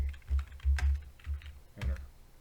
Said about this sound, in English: Now we're going to check and see if the Wi-Fi is actually working by typing in IP space A